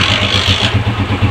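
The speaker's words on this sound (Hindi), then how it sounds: "बिल्कुल खाली किक हमने लगाई है और बगैर एक्सीलेटर के बाइक जो है हमारी स्टार्ट है" A motorcycle engine, just kick-started without touching the accelerator, idles loudly and close by with a steady, even putter of regular pulses.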